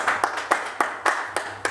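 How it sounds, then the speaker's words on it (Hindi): A small group claps for a mobile repair trainee at a phone repair training centre after a repaired phone powers on. The claps are loose and uneven, with separate sharp hits rather than a steady roll, and no one talks. "जोरदार एक बार इनके लिए तालियां क्लैप करिए भाई।"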